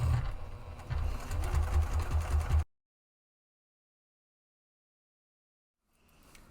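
Sewing machine stitching a seam on fabric, a close, rapid mechanical chatter running for under three seconds before stopping abruptly into silence, with faint noise returning at the end.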